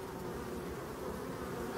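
Honeybees hum at their hive in a dense, continuous buzz, a steady swarm-like drone with no voices.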